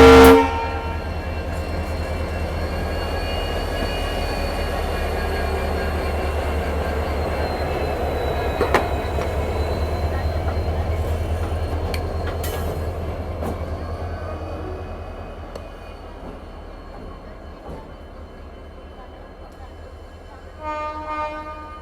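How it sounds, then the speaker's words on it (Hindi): Diesel locomotive on an Indian railway pulling away from a station, a loud steady engine rumble with rail clatter throughout, a few sharp clanks, fading slightly toward the end as it moves off. "ये डीजल वाला पावर भी यहाँ पे निकल गया, देखो।"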